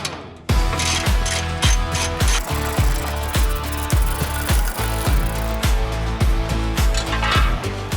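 A ratchet with a 12mm socket removes the bolts from a 4WD dash plate in rapid repeated clicking strokes, loud and close, with no one speaking.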